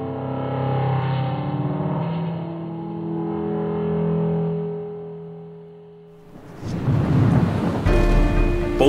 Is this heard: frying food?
no